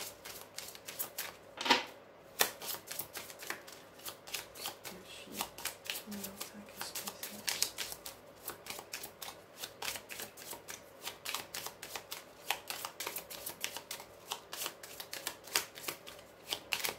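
Lenormand cards being shuffled for a reading: continuous close riffling and flicking of cards with a quick, fairly even rhythm, moderately quiet, going on throughout with a brief louder snap early on.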